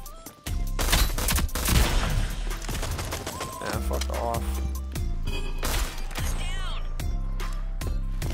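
Dense gunfire and impacts in the video game Rogue Company, loud and continuous with repeated shots and booms, while a player talks over the action.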